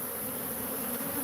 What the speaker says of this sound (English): the bees are gonna ball up somewhere here, and then we can knock them down